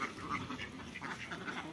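Laying ducks on a farm quack together as they eat at feeding time, a faint, busy chorus of overlapping calls that goes on throughout, with no voices over it.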